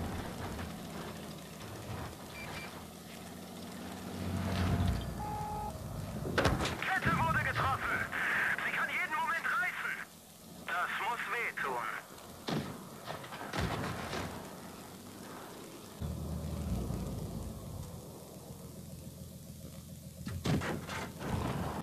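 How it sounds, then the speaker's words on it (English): Tank gunfire and battle noise from the World of Tanks Blitz game with a Leopard tank, several heavy booms and rumbling bursts over a long stretch, mixed with engine-like drone, while a voice talks over parts of it. "So right now, we're gonna hit the battle and I'm gonna shoot."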